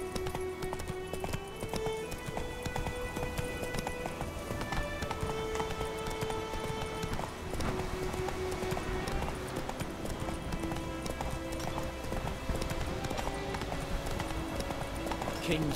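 A horse gallops in The Witcher 3, its hooves making a steady, rapid clip-clop rhythm under loud, dense game music and ambience, with someone speaking briefly.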